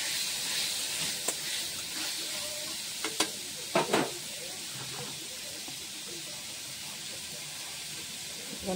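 Spices and dried chillies fry in hot oil, making a loud, even sizzle throughout. A few sharp scraping knocks from stirring cluster in the middle before the hiss settles back to a steady level.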